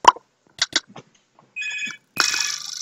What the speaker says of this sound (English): Phone, shut up.